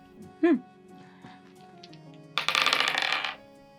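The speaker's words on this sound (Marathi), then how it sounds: "आता 2 फासे फेकल्यावर वरच्या पृष्ठभागावर कुठले आकडे आलेत?" Two dice clatter as they are tossed onto a surface for a probability lesson, a short rattling burst of light hard knocks about halfway through, with a brief voice sound just before it.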